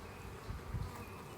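A faint, steady buzzing of many honey bees at an open hive during inspection, close and continuous, with a low hum throughout.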